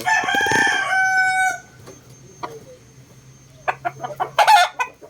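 Sweater gamefowl rooster crowing loudly and close for about a second and a half, followed by a quieter stretch with a faint hum and then a burst of clucking and short calls.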